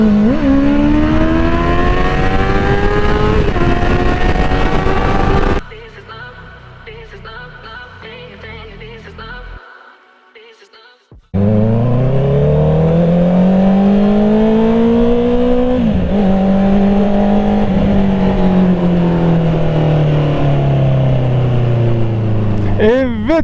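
A loud motorcycle engine with a newly fitted exhaust drones and revs, its pitch rising and falling, then cuts to a quieter stretch before the roaring revs return.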